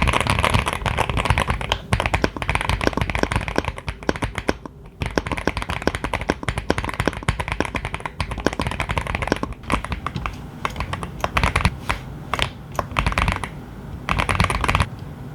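Rapid, continuous clacking of an Aula F75 Max mechanical keyboard being typed on, dense and close, with no one talking.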